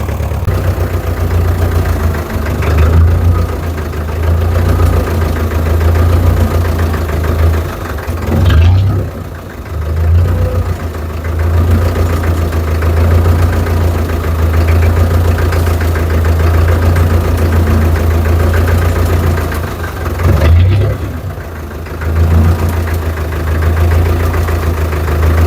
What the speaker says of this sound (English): Weird, tractor doesn't want to idle up while under load.